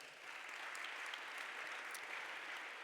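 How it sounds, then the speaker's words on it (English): A room full of people at a talk on designing with water claps steadily, a dense, even patter of hands that carries on at a moderate level throughout. "Please give them a round of applause for the conversation."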